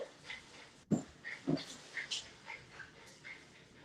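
Dogs sniff and snuffle around outdoors, with a series of soft, short nasal puffs and snorts at irregular intervals, quiet and close with no talking.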